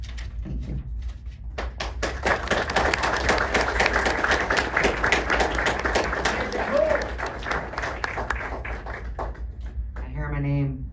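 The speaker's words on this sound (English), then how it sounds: "They're cheering for you." A crowd at a eulogy gathering bursts into steady applause, with sharp claps and some cheering throughout, ending in a brief voice or tone near the close.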